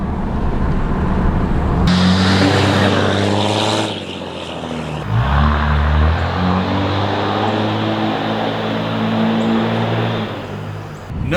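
A straight-piped, pre-emission Cummins diesel engine runs loud and near, a deep throbbing rumble with strong harmonic drone that dips briefly then swells back up before settling into a steady roar.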